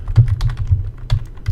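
Rapid typing on a worn computer keyboard, a quick irregular run of close, crisp key clicks with no voices.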